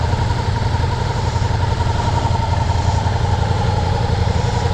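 Ducati Diavel V4 motorcycle engine idling close by at a motorsports dealership, a steady, dense low rumble with a fast regular pulse, loud and unbroken throughout, no voices.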